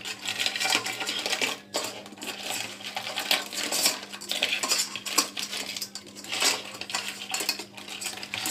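Crabs being tossed with lemon and salt in a dish, giving steady close clattering, scraping and clinking of shells and utensils with a low background hum, no voices.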